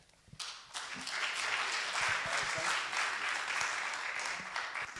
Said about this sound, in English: we give a clap to the panelists as we close it up